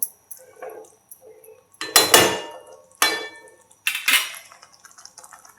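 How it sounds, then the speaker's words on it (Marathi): Washing a mixer grinder jar in a home kitchen gives several loud clatters and splashy bursts of water against the jar, spaced about a second apart, with faint drips and quiet kitchen noise between them. "मिक्सरचं भांडं वगैरे धुवून काढावा"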